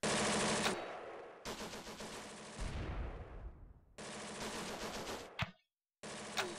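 Automatic weapons fire rattles in long, dense bursts with brief gaps in a WWII paratrooper video game, loud and close.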